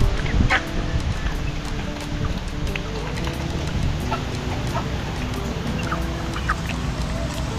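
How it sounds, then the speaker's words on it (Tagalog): Chickens cluck and call repeatedly at close range over a steady hiss of rain or background noise, with no talking. "mga manok yan ni Sani"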